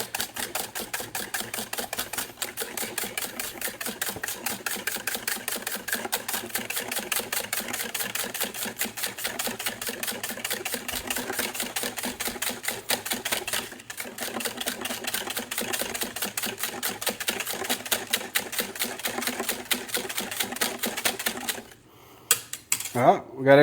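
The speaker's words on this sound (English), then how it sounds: "gonna take our mixer. Make sure all that's mixed up good." An electric mixer whirs steadily through a coconut ice cream base for about twenty seconds, a dense, continuous mechanical buzz that cuts out near the end.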